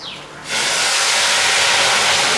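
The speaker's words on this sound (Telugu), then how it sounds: "ముందు తాలింపులు వేస్తాం కదా," Spices drop into hot oil for tempering cucumber dal, bursting into a loud, steady, close sizzle that starts abruptly after a short quiet moment and holds strong to the end.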